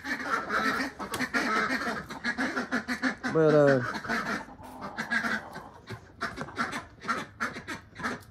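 Ducks quack in a quick series of nasal calls near the middle, with a person talking before and after and some scattered background clatter.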